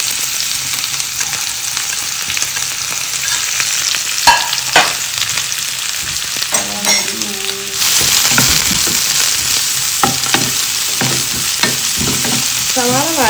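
Chopped onion sizzles and is stirred in hot oil after mustard seeds have popped, a steady frying hiss with scraping spoon strokes and small crackles throughout, close and alone.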